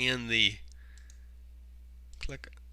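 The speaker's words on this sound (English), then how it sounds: "I'm going to click any place outside that circle" A computer mouse clicks a few times, faint and close, after a person finishes speaking and before they start talking again.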